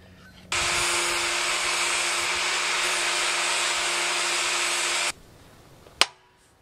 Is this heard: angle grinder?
yes